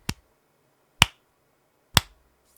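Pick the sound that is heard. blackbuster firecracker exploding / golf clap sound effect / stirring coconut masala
golf clap sound effect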